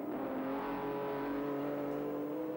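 Loud, steady engine roar from touring race cars at speed at Sandown in 1984, a sustained droning whine with no pauses and no voices.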